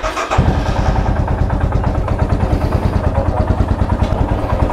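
A Royal Enfield Himalayan motorcycle engine starts after a fuel pump filter cleaning, cranking briefly before settling into a loud, steady single-cylinder idle with a rapid, even thump close by, no voices.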